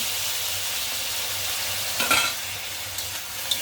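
Spatula stirring a shrimp and water lily stir-fry in a pan: steady close hiss of frying with a few scraping stir strokes near the middle and end, no voices.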